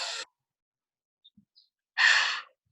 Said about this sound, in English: most people's version of a deep breath in looks like this